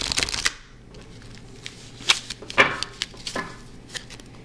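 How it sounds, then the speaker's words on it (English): A deck of tarot cards is shuffled by hand in a quiet room, with a quick riffling burst at the start followed by scattered soft flicks and snaps of the cards. "I'm going to be shuffling the cards"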